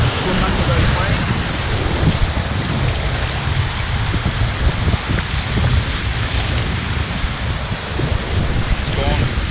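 Surf breaking at Muriwai beach, a broad continuous roar of waves mixed with wind buffeting the microphone, loud and unbroken throughout.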